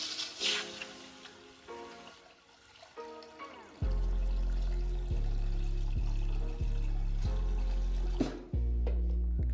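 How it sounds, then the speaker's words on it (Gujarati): Water poured into a hot cooking pot on a gas stove while making paste for kite string, a steady loud pour with a low resonant rising tone, preceded by faint kitchen clatter. "તો આપણે થોડું પાણી નાખી દઈએ."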